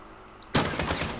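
Gunfire in Call of Duty: Modern Warfare on PS4 Pro, opening with a sudden loud shot after a near-silent moment, then several rapid follow-up bursts in quick succession.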